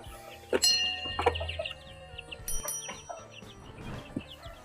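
Chickens and young chicks on a small farm, with several close clucks and short squawks in irregular bursts and faint peeping between them.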